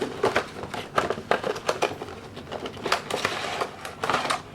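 A One Piece Roronoa Zoro Figuarts ZERO figure is pulled from its packaging, giving a quick run of close crinkling, crackling plastic and cardboard rustles in irregular bursts.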